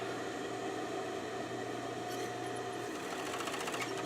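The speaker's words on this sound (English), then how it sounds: "I'm going to just stitch up all the way to the top" A sewing machine runs steadily, stitching up a stuffed animal, its motor whirring in one continuous stretch without pause, close and alone.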